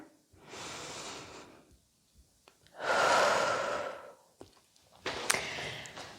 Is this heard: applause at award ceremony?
no